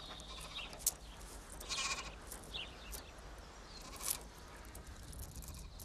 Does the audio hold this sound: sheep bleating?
yes